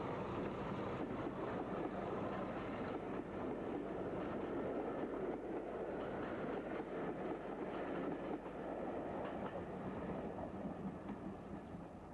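A train departing Williton station rumbles steadily along the track, a continuous mechanical roar with faint rhythmic clatter, heard from a moderate distance with no talking.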